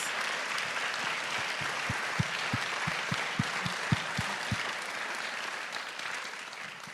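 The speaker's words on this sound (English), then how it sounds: "Let's give all of our panelists a nice round of applause." Sustained audience applause for panelists at a Clinton Presidential Center discussion, steady dense clapping with a few sharper individual claps standing out, no speech over it.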